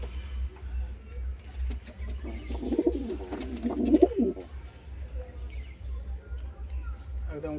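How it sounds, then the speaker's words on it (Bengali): A pigeon cooing close by in a burst of throaty, rolling coos near the middle of the clip, over a low steady hum. "দেখুন পায়রাটা"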